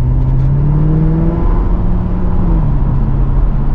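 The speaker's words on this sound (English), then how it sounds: "The car sounds really good." A 2006 Chevrolet Corvette with automatic transmission drives down the road, its engine droning steadily and loudly with a smooth rising pitch as it accelerates and shifts.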